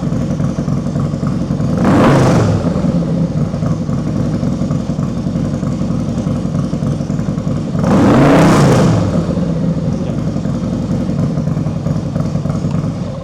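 A car engine with a newly installed exhaust revs hard twice, two throaty surges climbing over a steady close idle rumble, spaced several seconds apart with no talk.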